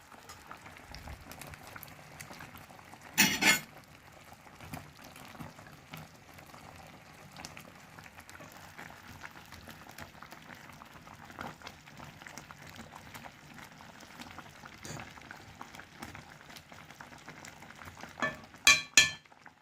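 Fish simmering in a bubbling Sharkleberry Kool-Aid sauce in Jamaican home cooking, giving a steady soft bubbling and sizzling that runs throughout, with a couple of brief louder clatters near the start and end.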